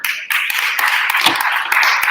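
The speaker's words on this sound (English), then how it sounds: "Big round of applause for Gord" Audience applause at a sales event, a steady wash of many hands clapping close and loud for about two seconds with no break.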